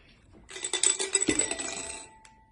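Transparent precision dice tumble and clatter across an electronic board, a close, dense rattle lasting about a second and a half before settling, with no talking.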